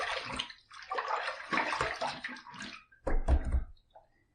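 Water runs and splashes in uneven bursts as a face is rinsed after a wet shave, with close sloshing and dripping that stops briefly before a final splash.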